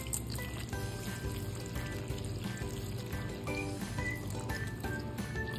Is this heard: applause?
no